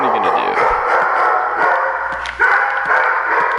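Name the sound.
dog barking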